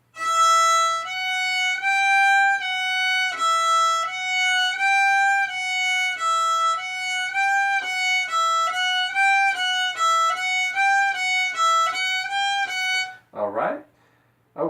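Solo fiddle plays a repeating open-string, first-finger, low-second-finger, first-finger pattern, steady bowed notes stepping up and down over and over for about thirteen seconds, close and clear, then stopping with a brief rustle at the end.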